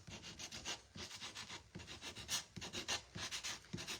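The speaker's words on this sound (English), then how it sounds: "I'm gonna sand the edges" Sheet of 80 grit sandpaper rubbed by hand along the dry wooden edges of a bunny Easter decor piece, giving repeated close rasping strokes in an uneven back-and-forth rhythm, with no talking.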